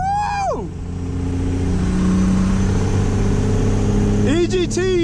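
A truck on bigger tires accelerates hard from a standstill to 60, its engine roaring loud and close with rising revs and the tires spinning, while people whoop and shout over it.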